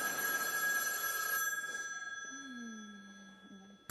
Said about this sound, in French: Téléphone. T'entends.